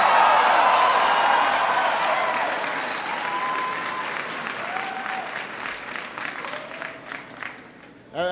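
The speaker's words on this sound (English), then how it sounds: "That's what's called an applause line in the business." An audience of troops applauding at a rally at Osan Air Base: loud sustained clapping that gradually fades, with a few whistles rising through the tail.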